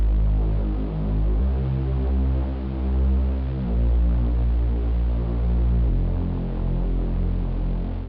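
A synthesized bass line in a music loop, a deep, buzzy sustained tone that shifts pitch every couple of seconds, steady and loud with nothing else on top.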